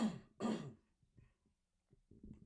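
A man clears his throat twice in quick succession, close and fairly loud, followed by a couple of faint, brief rasps and small throaty sounds.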